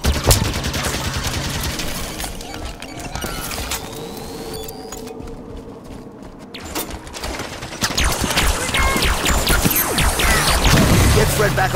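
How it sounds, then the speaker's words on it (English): Enemy gunfire and battle noise in Halo 5 on Legendary co-op, dense crackling shots and impacts clattering throughout, dipping briefly in the middle before swelling louder again near the end. "Enemy firing from that ledge."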